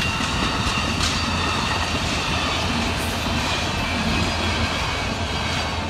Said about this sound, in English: Damn it, there's a train in our way.